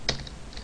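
A computer keyboard is typed on nearby, one sharp key click followed by a few softer, quicker taps in a quiet room.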